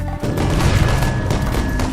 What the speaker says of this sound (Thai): ยิงระเบิดใส่หน้าเพื่อนเลย